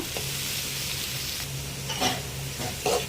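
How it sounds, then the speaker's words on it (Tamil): Grated coconut sautéing in a pan for tomato chutney gives a steady close sizzle, broken by a couple of brief scraping stirs near the end. "தேங்காவை ஆட் பண்ணி நல்லா வதக்குங்க"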